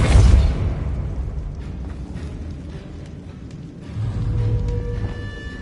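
A Depulso spell cast in the Hogwarts Legacy video game, a heavy low burst up front that decays into rumbling, creaking mechanical sounds, followed by a second swell of low rumble.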